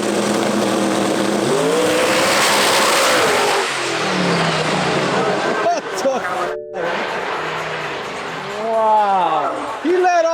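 A BMW drag car at a Euro drag racing event roars hard under acceleration, its engine note climbing through gears, dipping briefly, then surging again with rising revs, loud and near over crowd noise.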